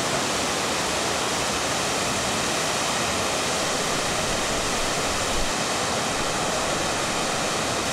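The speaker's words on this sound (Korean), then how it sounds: "우리나라 3대 폭포의 하나로 꼽히는 구룡." Guryong waterfall on Mount Kumgang, a 50 m drop in the upper Okryu valley, pours in a steady, loud, broadband roar of falling water that holds without break and without voices.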